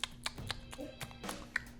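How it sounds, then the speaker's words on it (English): A house cat licking itself indoors: a quiet, steady run of soft, wet clicking taps, evenly paced about four per second, close by and alone. "That's my cat licking its own asshole."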